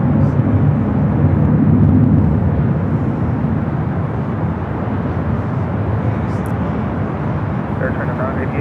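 Air China flight 988, a jet airliner, takes off from runway 24 left at LAX with a loud, continuous, broad engine roar throughout, with a voice faintly present beneath it.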